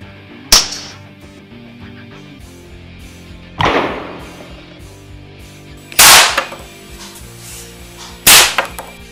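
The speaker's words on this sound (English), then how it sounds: "And here's some footage firing the railgun." A homemade railgun fires a projectile four times, each shot a sharp, loud crack standing alone over a low background hum, spaced roughly two to three seconds apart.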